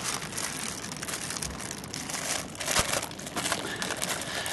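Plastic crinkles and rustles continuously at close range, quiet, with a sharper crackle partway through.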